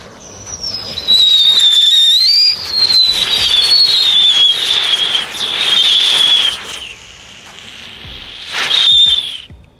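Cheap Mexican whistling firecrackers let out a thin, high whistle that wavers and falls for several seconds, then fades and flares up again in a final short burst, all close by.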